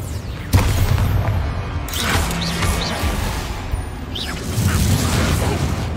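Explosive spell blasts in Hogwarts Legacy: a sharp booming hit, then rolling bursts and whooshes under a steady, busy battle din.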